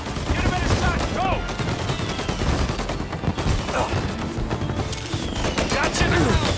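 Gunfire in the video game Mafia: Definitive Edition, a dense fusillade of shots and cracks running continuously and loudly, with game voices shouting over the shooting throughout.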